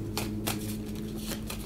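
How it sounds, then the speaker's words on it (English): Playing cards shuffled by hand between rounds of the Pixel Glory: Light and Shadow card game, a few quick riffling bursts close up, with a steady low hum underneath. "Alright, gotta shuffle again."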